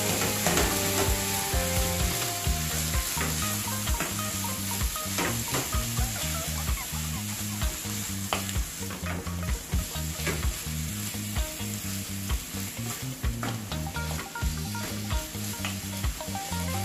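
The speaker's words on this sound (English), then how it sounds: "Then you want to stir everything together now." Corned beef being stirred in a pot, with a steady loud sizzle and frying crackle and the scrape of a spoon, continuous throughout with no talk, set against a rhythmic background beat.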